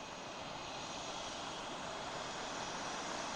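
Steady, loud roar of a jet aircraft's engines while taxiing back after a flight, a continuous broadband rush with no pauses or voices.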